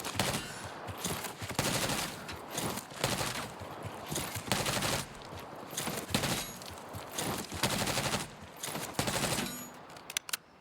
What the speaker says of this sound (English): you want to shoot and slide and finish them off